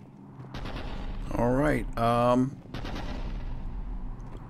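Gunfire and cannon blasts in the Mass Effect 3 video game rumble continuously through the clip, mixed with loud synthetic voice effects and a brief spoken line from a character.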